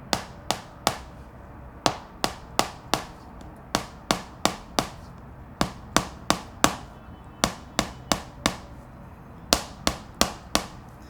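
Sharp, rapid taps from a massage hammer striking in quick bursts of two to four, with short pauses between groups, close and clear.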